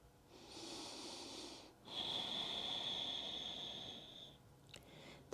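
Slow, deliberate breathing during a yoga pose, a faint airy inhale followed by a longer, slightly whistling exhale through the nose, close and quiet with no talking.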